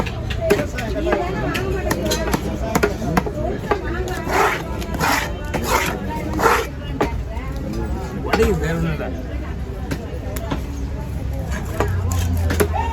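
Crabs being cracked and chopped with a knife at a Kasimedu fish-cutting stall, a loud run of sharp, close chops and shell cracks at an irregular pace, with someone talking throughout and street noise behind.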